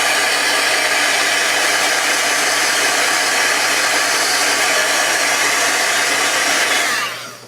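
A hair dryer blows steadily on wet gel medium in an art journal, a loud, continuous close-up whoosh that runs without pause for about seven seconds and then cuts off at the end.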